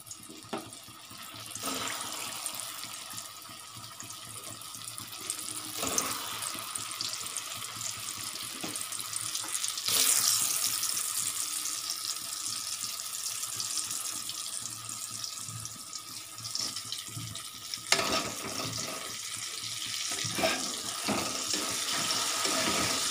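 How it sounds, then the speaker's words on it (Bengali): Potato fritters drop into lightly heated mustard oil in a wok and fry with a steady, close hiss and bubbling crackle that runs continuously, with a few brief louder pops along the way and no talking. "তেল হালকা গরম হয়েছে, এবার কিন্তু আমি বড়াগুলো এক করে এই কড়ার মধ্যে দিয়ে দেব।"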